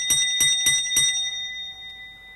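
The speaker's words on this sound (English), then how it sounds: "The bell in the cabin on the branch line rang once," A signal cabin bell on a branch line rings four quick, evenly spaced strokes, each clear and metallic with a long ringing tail that fades into quiet.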